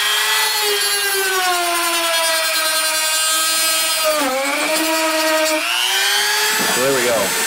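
A power tool cuts through a PSU shroud with a continuous high-pitched whine that holds steady, dips briefly as the load changes, then climbs again, loud and close throughout.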